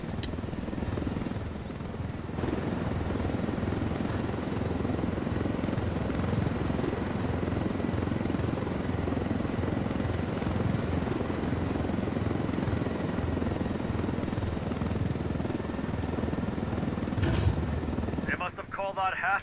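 Helicopter in the video game Ghost Recon Wildlands flying close by, a steady, loud rotor and engine drone that holds for the whole stretch, with voices talking over it.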